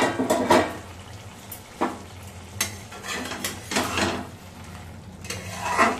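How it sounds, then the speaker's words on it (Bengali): A lid comes off a pot of soya-palak, soy chunks cooked with spinach, amid several sharp metallic clanks and scrapes of cookware over a faint background sizzle, close by with no talking. "আমি ঢাকনা খুললাম"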